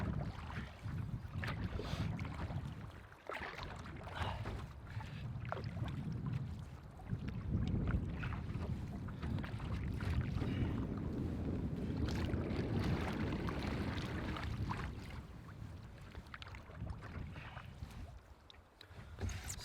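Strong wind gusts across an open lake in Algonquin buffet a canoe, a steady roaring rush with choppy water slapping the hull, loud and close with buffeting microphone noise throughout.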